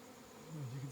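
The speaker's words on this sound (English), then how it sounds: "hundreds of bees. I think they're honeybees, must have been in that tree." Swarm of hundreds of honeybees circling a freshly fallen tree on a forest trail, a low droning buzz that swells louder partway through and holds steady.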